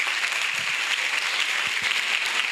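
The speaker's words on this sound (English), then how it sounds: "Yes, give a round applause to Tirupati." Applause from a seminar audience at a nursing college in Mangalore, a steady close burst of many hands clapping with no talk over it.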